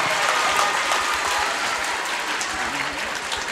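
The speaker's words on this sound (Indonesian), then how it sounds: "Tepuk tangan. Luar biasa." Audience applause at a large religious gathering, a dense, loud roar of clapping from a big crowd that holds steady throughout.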